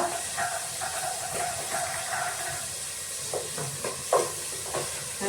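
Potato and mushroom masala sautéing in a pan gives a steady, close hiss of sizzling throughout, with faint stirring clatters and scrapes breaking in near the end.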